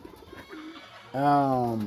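A dove coos once on a poultry farm, a loud, clear, close call in the second half following quieter low murmuring and faint background sounds.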